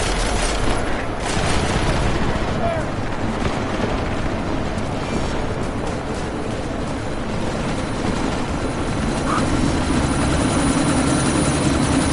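Helicopter in the video game Deus Ex: Mankind Divided, a loud, steady rotor roar with a dense rumble that fills the whole stretch, no talk.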